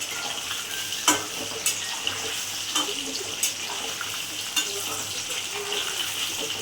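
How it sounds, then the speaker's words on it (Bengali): Potatoes fry in a pan with a little sugar while being stirred, a constant close sizzle broken by several distinct scraping knocks of the spoon against the pan; no one speaks. "একটু হালকা ভাজা হয়ে গেছে।"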